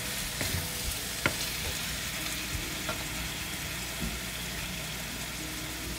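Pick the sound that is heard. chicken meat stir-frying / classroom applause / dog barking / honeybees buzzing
chicken meat stir-frying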